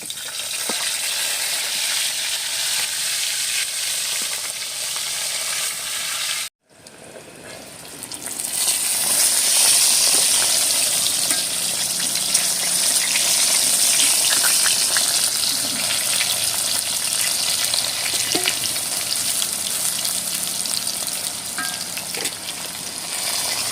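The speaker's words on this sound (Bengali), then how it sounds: "এবারে পটলগুলো ভেজে নেব" Pointed gourd (potol) slices frying in hot oil, a loud steady sizzle close by with stirring, broken by a brief silent cut before the frying resumes even louder.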